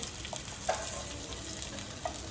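Stuffed bitter gourds fry in a pan with a constant close sizzle and crackle, with a few light utensil touches against the metal.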